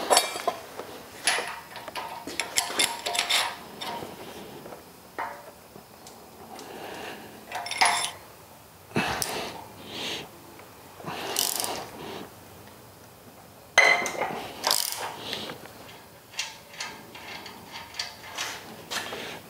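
Ratchet and wrench removing bolts from a Yardmax YS0552 log splitter: intermittent clicking ratchet strokes and metallic clinks, close and fairly quiet, in short irregular bursts with pauses between them.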